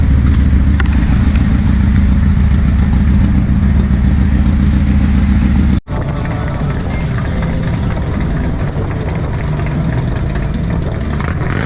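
Motorcycles at the Lone Star Motorcycle Rally in Galveston, Texas, idling and rumbling close by with a steady low engine drone, a brief sharp drop midway, and crowd murmur around.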